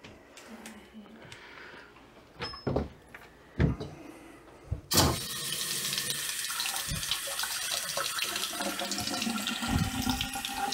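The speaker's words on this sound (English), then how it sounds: "Turn the water back on and then see what we got." Water gushes steadily from a newly installed Moen bathroom faucet after the supply is turned back on, a loud continuous splash into the sink that starts abruptly after a few knocks and clicks.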